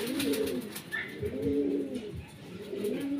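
A racing pigeon cooing repeatedly at the loft, soft low throaty coos in a steady rhythm, fairly close with light background noise and no talking.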